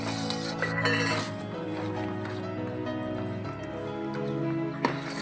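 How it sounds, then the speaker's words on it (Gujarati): A thick mohanthal mixture is stirred with a spatula in a pan. Continuous scraping and clinking of metal on the pan sits over a dense background hum, with one sharp clink near the end. "બધું મિક્સ કર્યા પછી તાવેદારથી મિક્સ કરવું"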